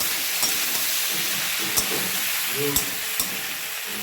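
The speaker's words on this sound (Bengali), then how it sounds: "এবার এটাকে কষে নিই।" Fried fish with turmeric, salt and chili powder is sautéed in a pan, a steady close sizzle with sporadic stirring clicks and scrapes and no talking.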